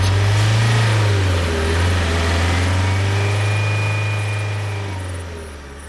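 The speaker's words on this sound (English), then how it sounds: "The bus that you must take to your mortal place of work is driving away without you" A bus pulls away in a steady low engine drone that holds loud and close, then slowly fades as it moves off, with no talking.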